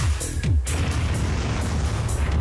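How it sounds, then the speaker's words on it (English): Fireworks burst in the Rock 'Em Sock 'Em Robots Arena video game: a loud, booming pop followed by a steady crackling rumble that carries through the whole stretch, with no talking. "The fireworks do change color, I just noticed that."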